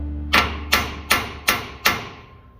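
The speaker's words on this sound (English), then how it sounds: "Give a little tap with the hammer, breaks the rust loose." Five sharp metallic hammer taps on a rusted exhaust manifold bolt of a 1956 International S160 truck, evenly spaced about a third of a second apart, close and ringing briefly after each strike, no talking.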